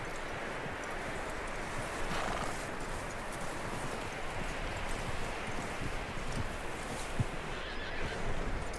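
A skittish horse in Red Dead Redemption 2 whinnies amid hoof clip-clops and rustling, wind-blown outdoor ambience, the sounds fairly faint and steady across the scene.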